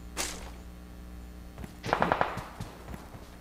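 A quick burst of rapid M4 rifle fire in PUBG Mobile, four or five sharp cracks close together, after a single distant shot and quiet background.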